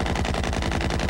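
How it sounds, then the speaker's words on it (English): Rapid automatic gunfire aimed at a vehicle, a dense fast burst of shots that fills the whole short moment, loud and close with no voices. "They're shooting at us."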